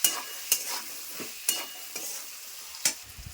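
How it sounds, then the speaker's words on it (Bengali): A spatula stirs turmeric and salt in a frying pan for a home-cooked vegetarian lunch, sharp scraping clicks landing every half-second or so over a faint, quiet sizzle. "নেড়ে দিচ্ছি।"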